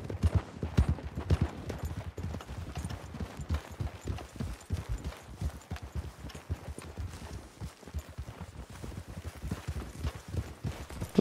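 Several horses trotting along a trail in Red Dead Redemption 2, their hooves making a steady, busy clip-clop rhythm at moderate distance that continues throughout.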